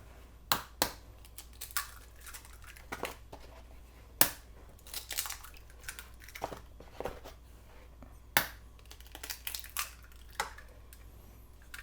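Eggs cracked one-handed into a bowl for a Japanese tamagoyaki omelet, giving a series of sharp, close shell cracks and small crunches spaced irregularly, with quiet pauses between them and no talking.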